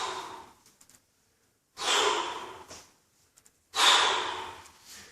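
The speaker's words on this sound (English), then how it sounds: "Okay, hear me breathing." Heavy, forceful breaths during kettlebell swings and snatches, two long loud exhalations with quieter intakes between, close to the listener and with no talking.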